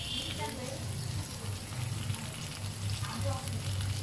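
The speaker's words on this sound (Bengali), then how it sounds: "185 গ্রাম পেঁয়াজটা আমি ভাজা ভাজা করছি" Sliced onions, about 185 grams, fry in a pan with green chilies and salt, giving a steady close sizzle that runs throughout with occasional stirring noises.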